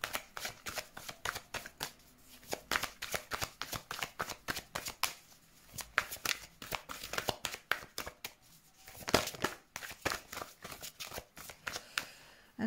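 A deck of cards shuffled repeatedly during a tarot-style card reading, with dense riffling bursts and flicks in steady rhythm, close and fairly quiet, no voices.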